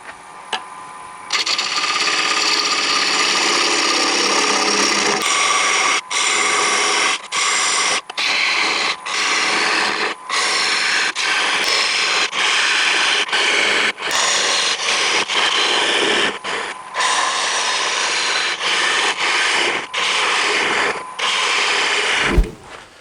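A wood lathe turns a bowl at about 1,000 RPM as a 7/8 inch bowl gouge cuts, producing a loud, continuous rough scraping with frequent brief breaks as the tool lifts off, close and with no talk.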